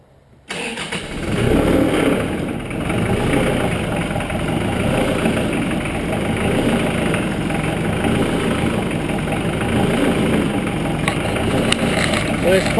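A diesel car engine cold-starting after glow-plug cycling catches within the first half second, then settles into a steady, close idle with a faint rhythmic pulse from a fuel filter due for changing.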